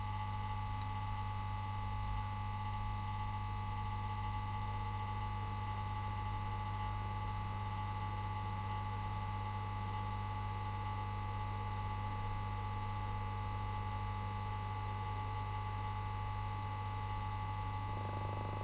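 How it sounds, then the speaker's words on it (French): A hot air rework gun heats a hinge nut and screw on a Lenovo E31-80 laptop, producing a steady, unbroken whirring hum with a constant tone and no voices. "l'air chaud que je vais mettre en route. Et je vais chauffer l'écrou avec la vis."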